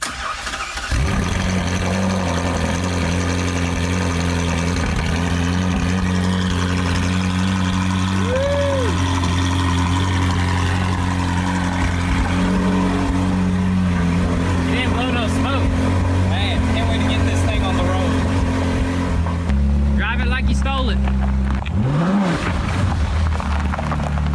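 A Ferrari engine cold starts, catching with a burst and then settling into a loud, steady idle with rising revs near the end, while people talk over it.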